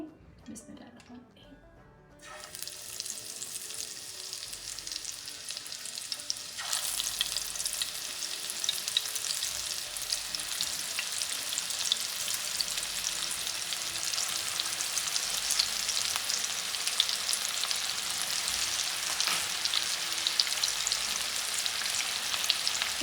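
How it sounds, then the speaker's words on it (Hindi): Fish pieces dropped into hot oil for a crispy fried fish recipe set off a loud, steady sizzle that swells after a quieter start and holds strong and close throughout, with occasional faint background voices. "अब हम जो है वो अपनी फ़िश फ्राई के लिए ऑयल में डालते हैं।"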